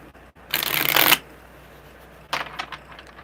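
A deck of tarot cards shuffled close up, one loud riffle lasting about half a second followed later by a softer, shorter burst of card handling.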